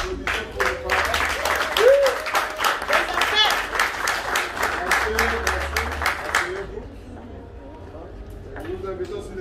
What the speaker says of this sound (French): Applaudissements pour les parents.